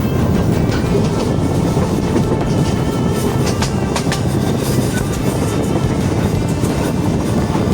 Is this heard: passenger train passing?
yes